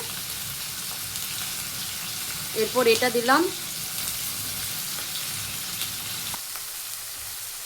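Cashews, poppy seeds and tomato paste hit a pan with already-fried ginger and garlic, giving a steady close sizzle throughout, with a short spoken phrase partway in.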